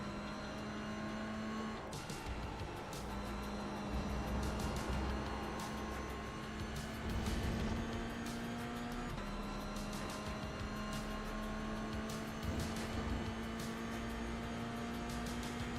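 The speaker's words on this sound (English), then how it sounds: "The MX-5s are so funny when they pass this. It sounds like a swarm of angry bees." Mazda MX-5 race cars in a 24-hour racing video game drone past together in a continuous, buzzy engine whine that holds steady at moderate level with small surges, with no talking.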